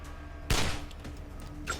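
A single sharp burst of gunfire in the video game Wasteland 2, close and loud over a low background hum, followed by a fainter click a moment later.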